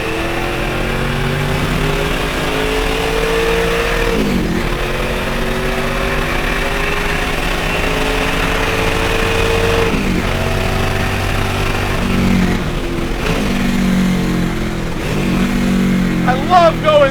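A Mustang engine with a 4-speed gearbox revs up through the gears, loud and close, its pitch rising in repeated climbs broken by brief dips at each shift, with a voice speaking over it.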